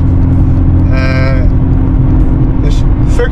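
Nissan GT-R R35 "Godzilla", a stage 5 tune making 670 PS, accelerating hard with a loud, steady low engine roar throughout, while a voice speaks briefly over it.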